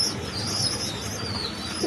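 Danish Black Diamond pigeons in a loft, with a soft, close coo and faint rustling and chirps against low background noise.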